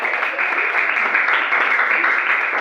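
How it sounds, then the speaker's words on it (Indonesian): Steady applause from a class of students fills the room, a dense, even patter of many hands clapping close by with no pause across its length. "tepuk tangan untuk kita semua sekali lagi"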